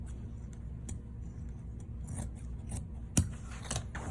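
Scissors cutting off the bottom of a pant leg during tailoring, quiet snipping and fabric rubbing close by, with a sharper snip near the end.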